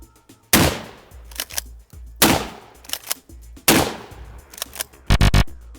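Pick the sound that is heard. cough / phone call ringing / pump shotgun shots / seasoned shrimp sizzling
pump shotgun shots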